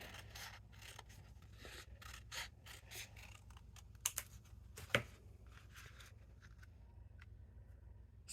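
Scissors snip paper shaped with a craft template in a quiet room, a series of soft, irregular cuts and rustles with a few sharper clicks, all faint and close.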